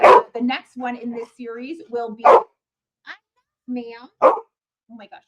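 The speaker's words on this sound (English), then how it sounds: "Sorry about my dog. She is just losing her mind right now." A pet dog, Indie, lets out several loud, close barks indoors, mixed in with someone speaking.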